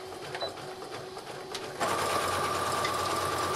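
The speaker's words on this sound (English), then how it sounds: "we're going to come back and we're going to zigzag stitch to finish those seams" A sewing machine runs a zigzag stitch to finish the raw seam edges of a simple skirt. A few quiet handling sounds come first, then a steady, close mechanical whir takes over for the rest.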